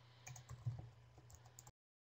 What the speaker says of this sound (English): I'm typing really quickly